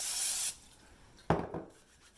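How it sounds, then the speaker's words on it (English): Cooking spray hisses out of an aerosol can onto hands in a kitchen: one steady half-second spray, followed by a short pause and then a quick rubbing of the oiled hands, soft and close. "give your hands a quick spray with some cooking spray"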